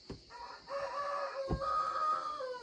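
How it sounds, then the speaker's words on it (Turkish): A speckled farmyard rooster crows in one long drawn-out call, loud and fairly close, with a brief thump near the start and no talking over it. "Çil horozumuz da ötüyor arkadaşlarım."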